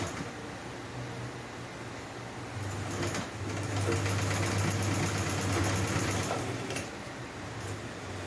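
Sewing machine stitching a satin-lined Ankara turban, a soft steady mechanical whir that grows slightly louder in the middle section before easing back.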